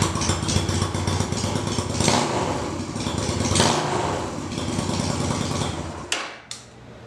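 A motorcycle engine runs steadily at close range with a busy mechanical clatter, then cuts off near the end, leaving a couple of brief knocks and a quieter tail.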